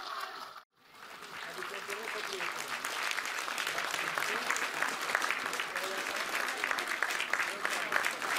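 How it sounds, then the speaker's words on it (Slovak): An audience at a Slovak folklore festival applauds guest folk performers with sustained, dense clapping after a brief pause at the start, steady and fairly loud throughout. "veľký potlesk pre našich hostí"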